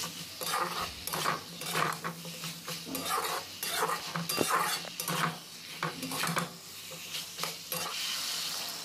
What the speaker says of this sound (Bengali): আলুটা দিয়ে মশলার সঙ্গে ভালোভাবে নাড়াচাড়া করে মিক্স করতে হবে এইভাবে